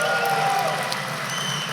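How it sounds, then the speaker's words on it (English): Audience at a business talk clapping for one another, a dense continuous patter of applause with crowd murmur, fairly even in level across the short stretch. "Let's clap it up for each other first."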